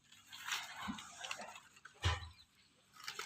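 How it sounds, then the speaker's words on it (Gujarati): A dog that has fallen into a well whimpers faintly with a few short, thin cries echoing from below, the sounds soft and distant amid low background noise. "કૂતરું પડ્યું હે"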